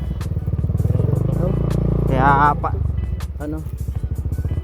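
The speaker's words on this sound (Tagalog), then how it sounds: "medyo maraming motor" Several motorcycle engines idle and rev nearby, a throbbing, uneven engine drone with a rising rev midway, while someone speaks over it.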